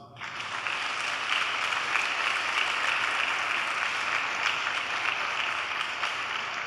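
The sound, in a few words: congregation clapping in church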